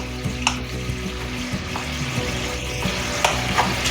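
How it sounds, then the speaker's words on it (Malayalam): Tamarind water poured into a pan of hot rasam seasoned with asafoetida and garlic, giving a steady close sizzle and bubbling with small clinks and splashes throughout, no voices. "കുറച്ച് പുളിവെള്ളം ഇതിൻ്റെ കൂടെ ചേർക്കുന്നു"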